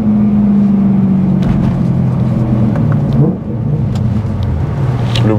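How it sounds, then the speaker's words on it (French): A BMW M3 V8 sounds a deep, loud rumbling engine note up close, holding a steady drone before dropping in pitch and settling into a rougher idle, with a few sharp clicks on top. "Le V8, c'est de toute façon une expérience unique en conduite de véhicule."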